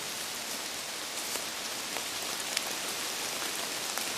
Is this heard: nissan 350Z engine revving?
no